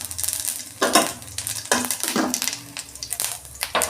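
Panch phoron spices hit hot oil in a wok for a mango chutney, crackling and sizzling loudly with bursts of spattering and stirring scrapes, close up and with no talking.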